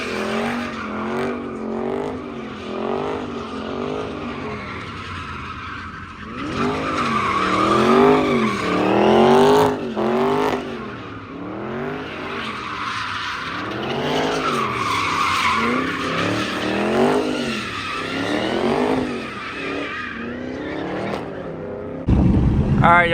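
A Dodge Charger RT drifts in a parking lot in Philly, with repeated tire squeals rising and falling in a wavering rhythm over a revving engine. The sound is loud and near, with voices and crowd noise mixed in.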